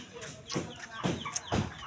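A chicken clucks in short repeated bursts, several close squawky calls spaced about half a second apart.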